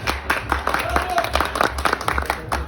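Wedding guests clap together at a celebration where a band is playing. The applause is a dense, steady patter of many hands, moderately loud and continuous throughout.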